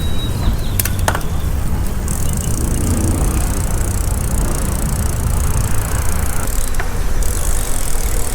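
Riding a Velotric T1 e-bike in sport mode brings a steady broadband rush of wind and tyre roar that holds constant throughout, with a couple of brief sharp clicks early on and no talking.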